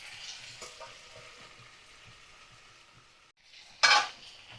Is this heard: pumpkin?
yes